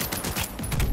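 Rapid enemy gunfire in Cyberpunk 2077, a close, loud burst of automatic shots in quick succession with heavy low thuds.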